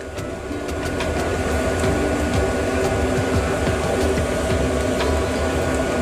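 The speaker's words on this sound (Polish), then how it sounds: "W tym momencie fachowiec wyłączył wentylator, no bo przeszkadzałoby to dźwiękowo" Stove fan blowing air onto a burning homemade briquette fire in a furnace; loud steady whooshing blower hum with faint crackles and ticks throughout, no talk.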